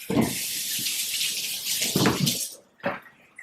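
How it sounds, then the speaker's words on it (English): Tap water runs over a cutting board as it is rinsed, a close, splashing stream that changes as the board moves, then stops, followed by a short final burst of water and a light clunk. "So I'm going to give cutting board a little rinse off."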